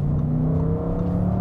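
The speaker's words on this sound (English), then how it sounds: "Have a bit of V8" An Audi RS6 V8 drones loud and close as it accelerates past a cyclist, a deep steady engine hum with a rising whir, no voices.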